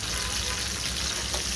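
Finely chopped green chillies roast in a spoonful of hot oil, giving a brief, even, close sizzle with no voices.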